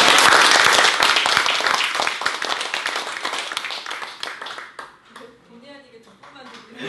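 An audience claps after a church lay academy lecture, loud and dense at first, then thinning out and fading as talking takes over near the end.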